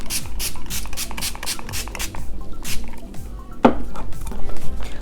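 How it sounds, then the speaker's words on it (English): Too Faced Hangover 3-in-1 setting spray is misted onto a face in a quick series of short, close spritzes, each a brief hiss, with handling noise and a louder knock near the end. "let me go ahead and spray my face"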